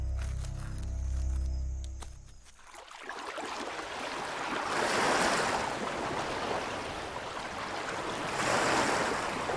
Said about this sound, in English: Nothing looks more tranquil than warm tropical waves lapping over a white sandy shore.